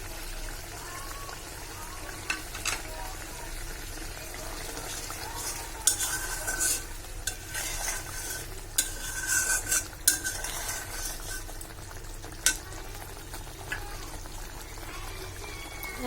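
A dahi begun curry of eggplant in yogurt is stirred in a pan, the spoon scraping and clinking against the metal in uneven strokes over a soft, steady background hiss, with a few sharper knocks standing out.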